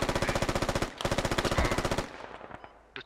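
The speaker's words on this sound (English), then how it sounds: "I don't know where those shots are coming from right now." Rapid automatic gunfire in the video game Squad, loud bursts of evenly spaced shots for about two seconds, then a few scattered distant shots trailing off.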